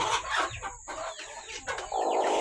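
A hen on a farm clucking in short, close, loud bursts, with some crowing-like calls mixed in and no talk.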